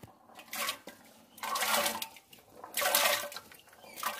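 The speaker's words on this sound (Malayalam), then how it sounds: "ഇനി ഈ ബീട്രൂട്ട് നമ്മൾ ഈ വെള്ളത്തിലേക്ക് എന്തിടാം." Cut beetroot pieces drop into a pot of water, making three close bursts of splashing and sloshing separated by brief pauses, with no talking.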